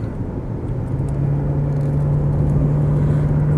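Close and steady, a Porsche 928S engine pulls onto the motorway, its smooth low drone holding a sustained tone as the car gathers speed, with no voices.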